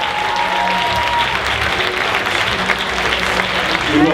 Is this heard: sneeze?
no